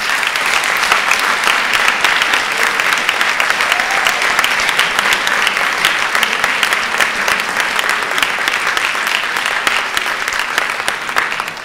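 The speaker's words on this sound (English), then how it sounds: "Let's have another round of applause" Sustained, loud applause from a large audience at a 2014 National Honor Society induction ceremony, a dense steady wash of clapping that holds for the whole stretch before tapering slightly at the end.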